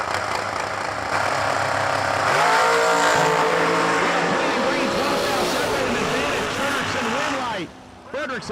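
A dragster launches and roars down a drag strip at a New Year Nationals event, engine noise building loud and sustained for several seconds before cutting off sharply near the end.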